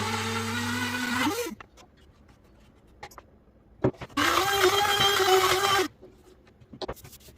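A food grinder grinding nigella seeds with a little olive oil, running in two loud whirring bursts of about a second and a half each, separated by a quiet pause with small clicks and knocks.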